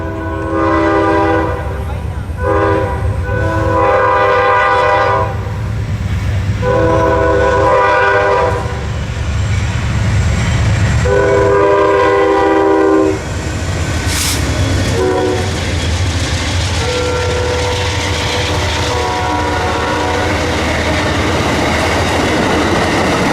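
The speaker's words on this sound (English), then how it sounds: "Hot on 455's heels was Amtrak train" Amtrak passenger train P097, southbound to Miami, roars past loud and close at Folkston with a steady rumble of rolling cars, while its horn sounds several long, sustained blasts in separate bursts over the passing noise.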